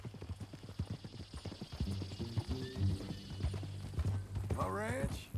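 Horse hooves clip-clop at a walking pace in Red Dead Redemption 2, a steady close rhythm of hoof beats under people talking, with a horse whinny near the end.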